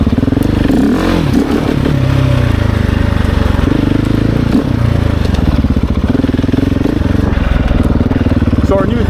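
A 2024 GasGas ES700 with a full titanium exhaust rides over grass, its loud single-cylinder engine droning steadily up close with a constant throbbing rumble and slight rises in revs.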